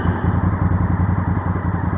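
Honda Africa Twin motorcycle ridden on a road in nice weather, a close, loud engine drone with a fast, regular pulsing throb.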